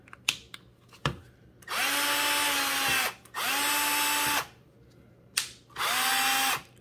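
A Milwaukee M12 2494-22 cordless drill/driver is run at its fast speed in three bursts of about a second and a half each, a steady high-pitched motor whine with sharp clicks and short pauses between runs.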